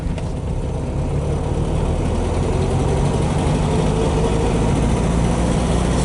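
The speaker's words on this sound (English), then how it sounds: "lovely quick engine" A 1969 Volkswagen Beetle engine while driving around the block, a steady droning hum with low rumble heard from inside the car, continuous and fairly loud with no talk.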